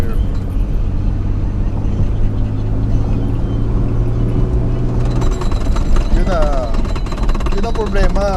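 Inside an 1980s Mercedes-Benz cruising in third gear, a loud steady engine drone and road rumble fill the cabin, shifting in tone partway through, while a person talks over it.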